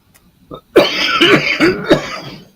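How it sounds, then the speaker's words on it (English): A loud fit of close coughing, several hacking coughs in quick succession with throaty, rasping edges, no talking. "Dang, I cannot quit coughing."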